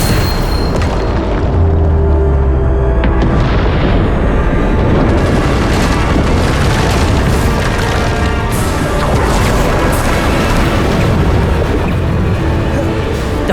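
Dense, continuous roar of repeated Bombarda explosion spells in the Hogwarts Legacy game during a combat trial, loud booms and crashes layered over one another with a steady battle din throughout.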